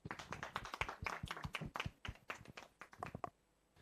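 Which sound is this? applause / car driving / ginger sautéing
applause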